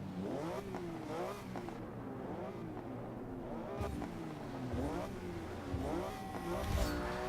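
Porsche engine in Forza Motorsport 6 revving up and down through gear changes, a loud rising and falling tone with crackling pops, with talking in the background.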